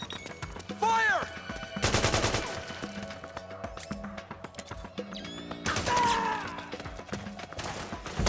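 Bursts of rapid gunfire from the video game Metal Gear Solid 4, loud and close, come in several volleys amid crashes and impacts, with shouting voices and whistling sounds over the combat.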